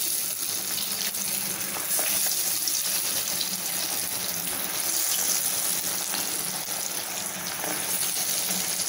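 Banana flower vadai frying in hot oil give a steady, dense hiss and bubbling sizzle, close and even, with faint crackles throughout and no talking.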